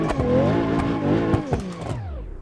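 Car engine in BeamNG held at full throttle, a loud close high-revving roar with pitch rising and dipping through quick gear shifts.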